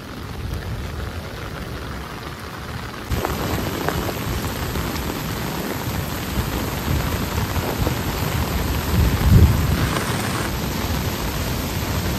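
Heavy rain pours during a flood at a river bridge, a loud continuous broadband hiss that thickens partway through, with a low rumble of rushing water near the end.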